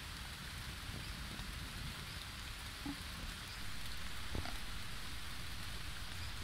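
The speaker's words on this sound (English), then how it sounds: "It's raining again." Steady rain falls in the survival video game Green Hell, a constant hiss of drops on jungle surfaces with a few louder drips, rising slightly in intensity midway, with no voices.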